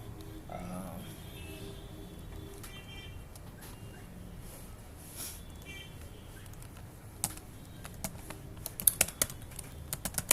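Soft clicking of computer keyboard keys while entering a form label in MS Access, faint and steady at first, then sharper, louder keystrokes toward the end, with someone talking throughout.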